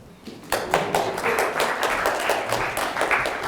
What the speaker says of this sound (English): Y'all can clap for them.